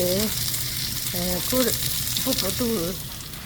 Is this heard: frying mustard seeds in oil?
yes